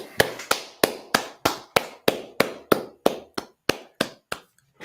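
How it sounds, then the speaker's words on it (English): Hand clapping at a Wednesday night law class gathering. About fifteen sharp claps land in a steady, even rhythm, close and loud with nothing else under them. "All right, clap it up."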